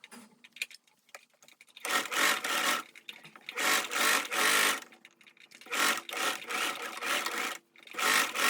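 A sewing machine stitches a sleeve and side seam in one pass on a denim-like dress, running in short rapid bursts of whirring stitches separated by brief pauses, close and fairly loud.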